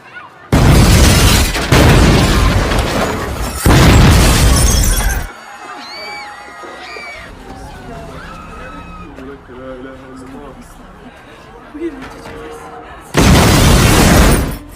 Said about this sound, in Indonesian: Akibat ledakan bom tersebut, banyak warga Amerika tewas.